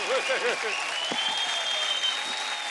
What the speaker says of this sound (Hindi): तालियां हो जाए, मजा हो गया